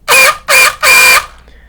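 An RC car's differential barks from an overtightened slipper clutch: three loud, harsh grinding bursts close by, the middle one short and the last one longer, then near silence.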